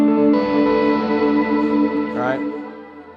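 An electric guitar plays a lead solo tone through a pedalboard with reverb, sounding loud, sustained, held notes with a ringing tail and a short slide near the end.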